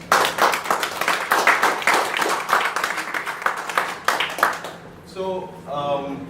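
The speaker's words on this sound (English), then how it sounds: "I want all of you to give them a big round of applause" An audience in a Malaysia office clapping in rapid, dense applause for several seconds before it stops and a voice begins speaking.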